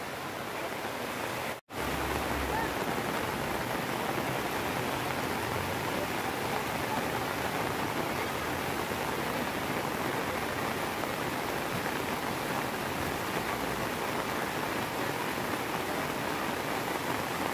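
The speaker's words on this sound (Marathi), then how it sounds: "पाऊस बघा जोराचाच आला." Heavy rain pours down on a weekly village market in Kherdi, Chiplun, in a dense, unbroken roar, loud and close, with a momentary cut near the start and no voices.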